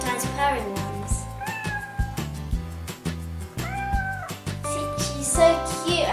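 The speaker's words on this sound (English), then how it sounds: "she makes meowing noises and sometimes purring ones." A Build-A-Bear calico plush cat toy plays repeated electronic meows, close and clear, with short gaps between them over a low background hum.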